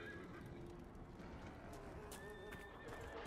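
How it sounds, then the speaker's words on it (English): A horse in Dragon Age Inquisition whinnies with a rising cry over a steady patter of clip-clopping hooves, the sounds close and continuous against a busy game backdrop. "Yeah, horse riding."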